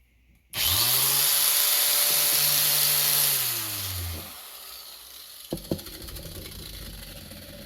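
A power tool spins up abruptly to remove rust from steel wheelbarrow legs, whining loudly and steadily for a few seconds, then dips in pitch and winds down, followed by a couple of sharp knocks and quieter handling.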